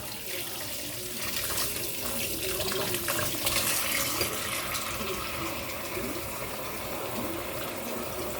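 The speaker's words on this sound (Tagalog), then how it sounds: "So, hugasan natin pati yung luya." Ginger rinsed under a running kitchen tap, a continuous close gush of water splashing into the sink throughout, with no talk.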